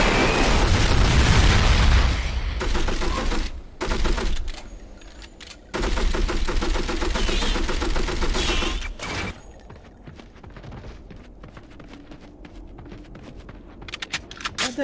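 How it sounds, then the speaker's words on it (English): A volley of rockets launched all at once in the PS2 game From Russia With Love, producing a loud, dense barrage of booming explosions and rapid popping bursts that trails off into scattered gunfire. "That dude shoot off all those rockets at once."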